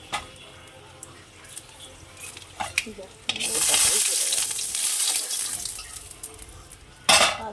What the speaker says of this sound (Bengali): তেলের মধ্যে দিয়ে দেবো শুকনো লঙ্কা